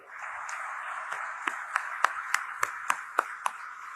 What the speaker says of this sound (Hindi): एक बार जोर से उनके लिए ताली बजाइएगा